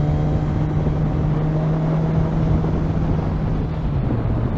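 A 2020 Suzuki GSX-S1000 motorcycle engine holds a steady, loud drone while cruising in sixth gear at moderate revs near 5,000 RPM. It hums continuously throughout, with wind and road rumble underneath.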